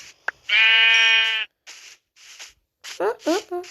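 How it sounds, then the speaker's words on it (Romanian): Sheep bleating in Minecraft: one long, loud wavering bleat stands alone, then short bursts of fast speech follow. "Uite, o oaie"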